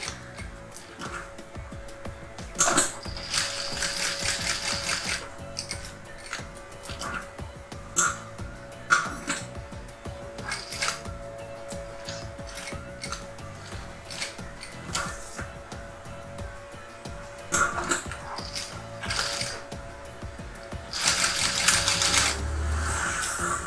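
A sewing machine stitches a lunch bag, close rapid clattering stitch runs broken by short pauses and light handling noises, moderately quiet with no talk.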